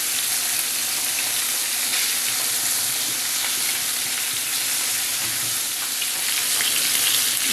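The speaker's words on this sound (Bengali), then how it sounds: "এই যে আমার সব মাছগুলো ভাজা হয়ে যাচ্ছে" Fish fries in a pan with a loud, continuous hiss of hot oil, steady and unbroken throughout with no voices.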